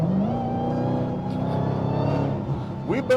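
The V8 of a Dodge Demon 170 holds a deep, rumbling drone, then blips sharply upward near the end, heard close and fairly loud.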